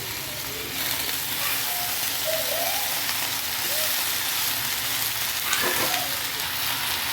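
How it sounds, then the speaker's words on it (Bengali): Chopped Malabar spinach greens hit a hot pan and sizzle in a dense, continuous hiss that holds steady throughout, close and moderately loud, with a faint scrape near the end and no talking. "এবার আমি এর মধ্যে কেটে রাখা শাকগুলো দিয়ে দেবো।"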